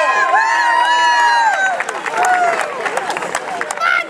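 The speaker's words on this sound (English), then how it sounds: "Come on, cheer the last one through." A crowd cheers and shouts continuously at a Christmas Clearing House peanut push race in 2023, with excited children's voices mixed into the loud, close, sustained roar of encouragement.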